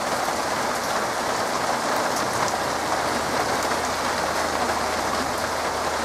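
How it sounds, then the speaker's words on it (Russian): Heavy summer downpour with large drops in Barnaul, a dense, constant hiss of rain drumming on surfaces, steady and fairly loud for the whole stretch with no voices. "Дождик пошел очень сильный."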